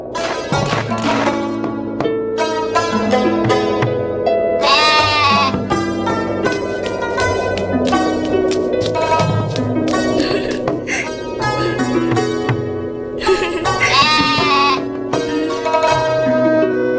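A goat in a farm setting bleats twice, with wavering cries standing out over continuous background music.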